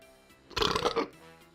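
A single deep, close burp lasting about half a second after drinking Barnstormer Polar Pumpkin beer, with quiet room tone before and after.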